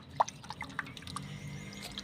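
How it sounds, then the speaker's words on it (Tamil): Water left over from washing rock fish is poured at the base of a drumstick tree in hot sun, giving scattered wet drips and splashes with a brief louder plop near the start, fairly quiet outdoors. "அந்த மரத்தில் அந்த மீன் தண்ணி தாங்க ஊற்றுறேன்"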